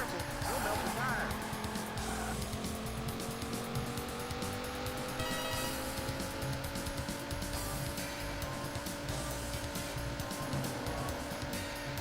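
Tires squeal on a race car in Daytona USA, an endurance race on the Sega Saturn, over a steady engine whine that holds from start to finish with a commentator talking over it.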